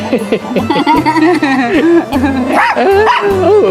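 A close, loud dog gives short barks and yips in quick bursts, mixed with people talking nearby.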